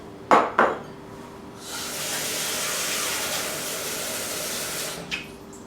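Water poured into a pot with onion and garlic for pondu: two sharp metallic clanks of the pot, then a steady rushing pour lasting a few seconds, ending with another light clank.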